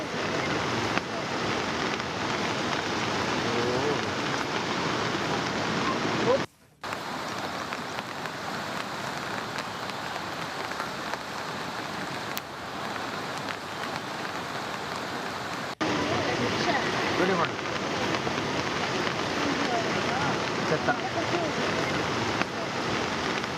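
Heavy rain and the rushing floodwater of the Bhadra river in Karnataka make a steady, dense broadband roar that continues unbroken, except for one brief dropout near the middle.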